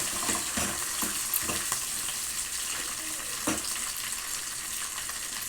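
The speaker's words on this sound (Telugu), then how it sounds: "కరివేపాకు వేస్తున్నానండి." Curry leaves hit hot oil in a pan, giving a steady hissing sizzle with scattered crackles and pops, moderately quiet and close, with no talking.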